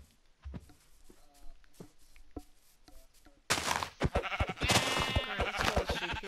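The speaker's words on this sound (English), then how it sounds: "let's call a sheep here, because we need sheep" Sheep bleating in Minecraft survival gameplay, several short bleats spaced over quiet stretches, then louder game sounds with footsteps and thunks joining in the second half.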